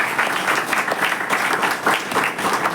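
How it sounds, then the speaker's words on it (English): Sustained audience applause at a student medical seminar on the lungs, dense steady clapping from many hands filling the room for nearly three seconds, with no talk over it. "So give them a round of applause for this."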